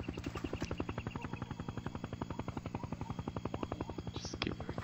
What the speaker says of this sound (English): And the helicopter is coming.